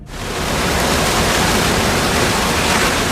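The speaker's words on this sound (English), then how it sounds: "And here is another terrible landslide caught on camera." Landslide in Atami City, Japan, after record rainfall, a loud continuous roaring rush of debris and water that rises quickly and holds steady without a break.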